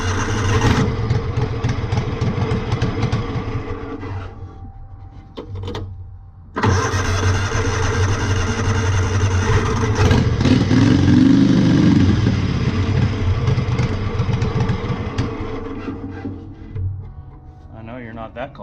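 A V-twin engine fitted to a Wheel Horse garden tractor cranks and starts, cuts out briefly, then catches and runs loud and close before dying away, with a voice heard around it.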